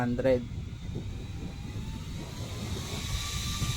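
A Jisulife portable fan running at its maximum speed setting of 100 gives a steady, loud rush of airflow noise throughout, with a brief voice burst at the start.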